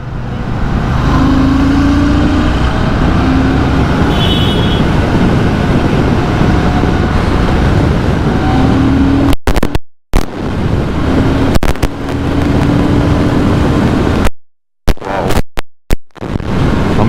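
A Royal Enfield Shotgun 650 motorcycle exhaust rumbles loudly and steadily while riding, with a deep, gritty drone and a few brief dropouts near the end.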